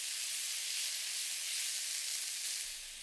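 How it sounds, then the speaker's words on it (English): Loud, steady sizzling of meat searing over high heat in a hot pan, a continuous crackling hiss close by, easing slightly at the end. "sear it over high heat for about 5 to 7 minutes until it gets a nice, beautiful tan"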